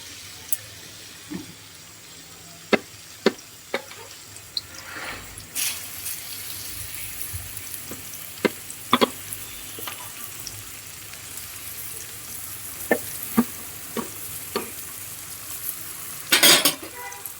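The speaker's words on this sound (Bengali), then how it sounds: "এবার তেলে দিয়ে দিব পেঁয়াজ কুচি," Chopped onions frying in oil in a wok, a steady low sizzle under scattered sharp clicks and utensil taps, with a brief rattle near the end.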